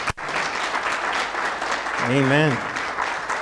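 Church congregation applauding in honor of veterans, a dense steady wash of hand claps filling the room while a voice speaks briefly over it.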